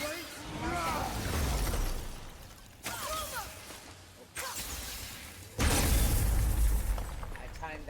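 Crystal smashing in God of War, several sharp shattering bursts with heavy thuds and whooshes at irregular intervals, the loudest near the end, with someone talking over parts of it.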